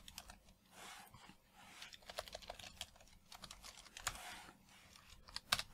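Quick irregular keystrokes on a computer keyboard as a message is entered, a steady close-up clatter with short pauses and no voices.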